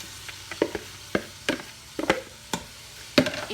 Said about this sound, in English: So I'm going to dump in all of the onions.